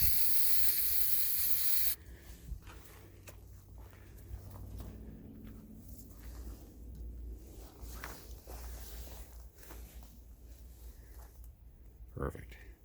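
An aerosol spray paint can hisses loudly onto a wolf target for about two seconds, then quieter handling noises, shuffling footsteps and a few knocks follow while people talk.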